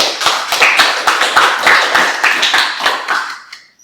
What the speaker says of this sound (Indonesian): tepuk tangan untuk Faiz dan Rahim Firdaus